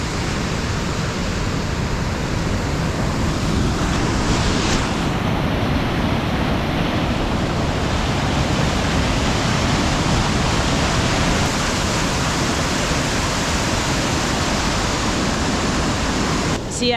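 Floodwater from a swollen creek at an off-grid property rushes over and between rocks, a loud, continuous broadband roar that holds steady throughout without a break.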